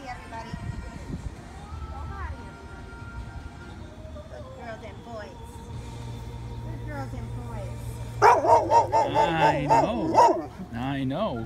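A household dog reacts to a newly arrived puppy with a burst of loud, close yips and barks near the end, after a stretch of people talking softly and a few faint whimpers.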